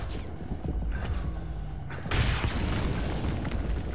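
An explosion booms in Metal Gear Solid 5, a deep rumbling blast that swells suddenly about halfway through and keeps roaring loud, with no talk.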